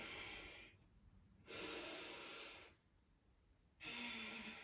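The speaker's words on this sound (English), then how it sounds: "Take 2 or 3 really deep Ujjayi breaths here." Deep Ujjayi breathing during a yoga class: two long, hissing breath cycles with a rushing exhale, quiet pauses between, close and soft with no talking.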